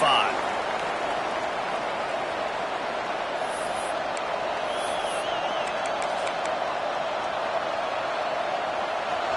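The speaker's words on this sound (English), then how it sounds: "This crowd ready to make its presence known." Football stadium crowd noise at a Georgia game, a steady loud roar of many voices with scattered whistles and cheers throughout.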